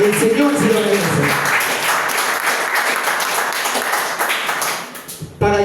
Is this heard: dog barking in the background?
no